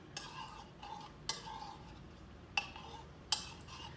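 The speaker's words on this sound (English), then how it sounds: "The more I stir this, the less I see of the jello" A spoon stirs melting jello in a container, giving a few soft scraping and clinking strokes spaced out over a quiet background, with no talking.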